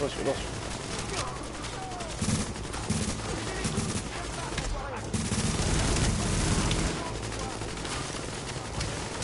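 Rapid gunfire from the video game The Division crackles in repeated bursts of rifle shots, moderately loud, beneath someone talking in French over the action.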